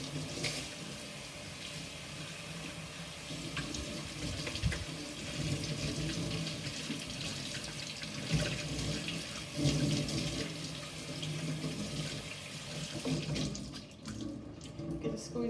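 Steady running water pours from a tap into a sink, a continuous close hiss that cuts off near the end.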